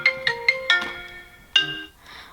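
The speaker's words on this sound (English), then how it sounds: "My phone is ringing." A mobile phone ringtone plays a quick run of bright melodic electronic notes, then another rising note after a short gap, fairly loud and alone with no talking.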